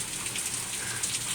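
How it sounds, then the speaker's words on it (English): Steady rain patters and hisses on a surface outside a door, a continuous close wash of drops without talk. "You watching the rain?"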